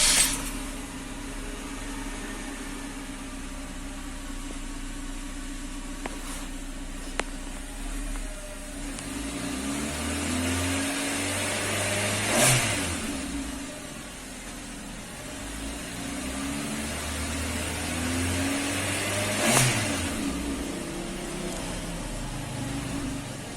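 A Suzuki Ciaz engine runs at a steady low idle throughout, a soft continuous hum with two faint brief clicks or taps along the way and no talk.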